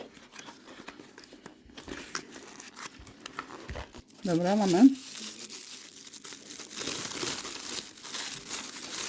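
Sheets of paper are handled and crinkled in a short burst of rustling near the middle, with someone talking quietly before and after.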